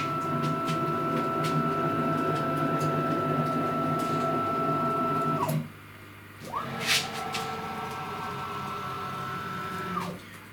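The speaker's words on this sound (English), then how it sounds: "I'm manually going to take the head over and bring it forward" CNC router head on a 36 by 36 inch machine being jogged across its axes, a steady motor whine, brief silence as it stops, then a clunk and another steady run.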